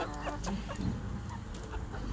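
Twelve-week-old chickens clucking softly nearby, a steady murmur of several birds with short overlapping calls.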